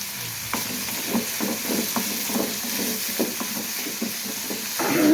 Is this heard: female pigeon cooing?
no